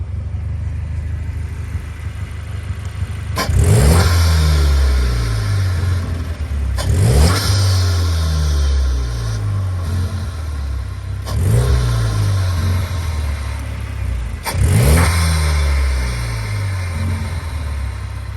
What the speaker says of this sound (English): Kind of a sound of the intake.